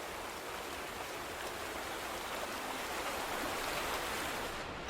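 Loud, steady rushing water fills the scene at a water treatment plant in The Vanishing of Ethan Carter, a dense unbroken roar with no pauses or voices.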